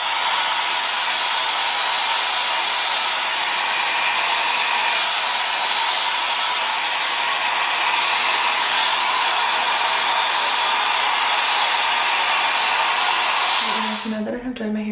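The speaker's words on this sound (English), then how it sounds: "I am going to blow dry it" A hair dryer blows hair dry in a loud, steady, close-up whoosh that holds almost unchanged for about fourteen seconds before cutting off at the end.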